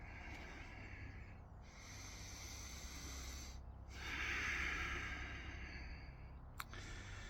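Slow, steady breaths during Kundalini yoga breathwork, long airy inhales and exhales with a brief pause between them, close and soft with no talking.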